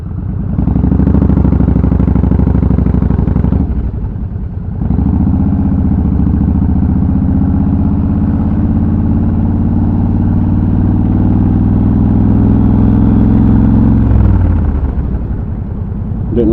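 Yamaha 1600cc motorcycle cruising with a steady, muffled engine drone that drops briefly near four seconds and again around fourteen, close and continuous with no talk.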